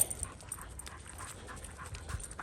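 A dog pants rhythmically and steadily close by, quick breaths repeating over a quiet outdoor background with no talk.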